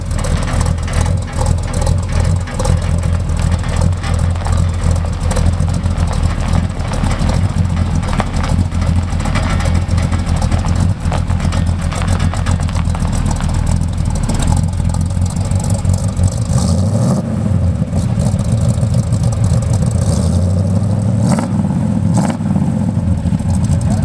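A Squarebody Chevy truck engine idles loudly and steadily, heard from the exhaust at the rear, a deep continuous rumble with slight unevenness and no talking.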